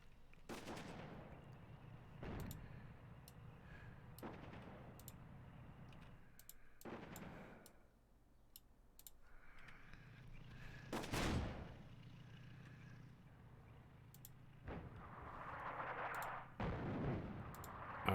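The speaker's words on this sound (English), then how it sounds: "Okay, artillery away." Artillery fire in the WWII North Africa tank strategy game Attack at Dawn: North Africa, a series of heavy booming shots spaced several seconds apart, fairly loud, with no one talking over them.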